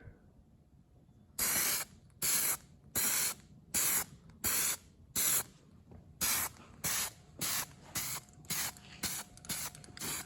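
Spray paint hisses from an aerosol can onto C55 valve covers in about a dozen short, sharp bursts, close and evenly spaced with brief silent gaps between them.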